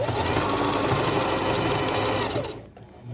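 A sewing machine stitches along a folded fabric edge, its fast, steady motor whirr running loud and continuous up close before slowing to a stop.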